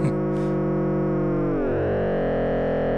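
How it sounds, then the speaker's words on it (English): A steady sine-wave tone from an Endorphin.es Furthrrrr Generator synthesizer hums loudly and continuously, its harmonics shifting and bending partway through as the timbre thickens. "I'll bring in some of that sine wave, unmolested one."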